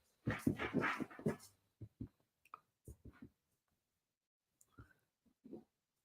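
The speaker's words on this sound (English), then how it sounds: "Got a puppy wanting my attention." A puppy whimpers and yips in short, quiet bursts close by, with scattered soft cries and pauses after an initial cluster of higher whines.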